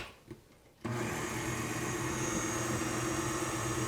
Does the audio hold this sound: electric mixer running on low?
yes